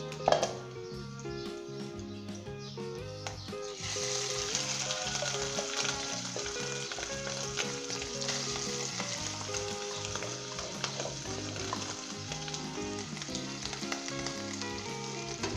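Shredded chicken sizzles and crackles in a hot pan, a constant frying hiss under a layer of background music, with no talking.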